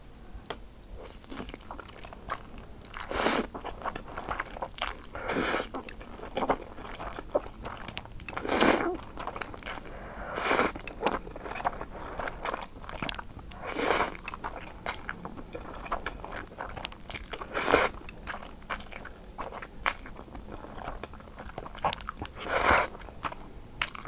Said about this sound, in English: Today I'm eating jajang, black bean fire noodles.